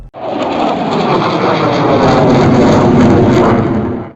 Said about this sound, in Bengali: আকাশ কাঁপিয়ে উঠল এক বিকট শব্দ যুদ্ধবিমানের ইঞ্জিনের গর্জন